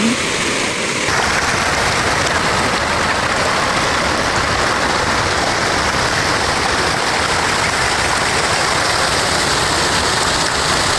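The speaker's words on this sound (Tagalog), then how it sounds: "Medyo malakas po ang pag-agos ng tubig dyan." Water rushes steadily along a river at a resort, a loud, continuous broadband wash that stays even throughout, close by and with no voices over it.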